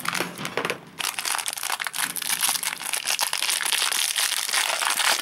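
Plastic wrapping on a Pokemon card mini album being cut and pulled open, a close, loud stretch of crinkling and crunching with a short quieter pause near the start.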